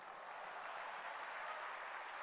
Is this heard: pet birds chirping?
no